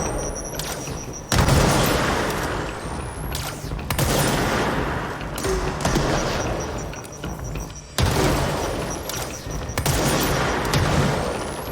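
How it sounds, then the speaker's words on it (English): Enemies fire rockets in the video game Control: heavy, booming blasts and rolling explosive bursts come in waves with short lulls between them, loud and close throughout. "They're firing rockets already."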